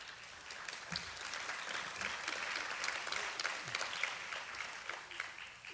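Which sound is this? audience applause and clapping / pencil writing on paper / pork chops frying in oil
audience applause and clapping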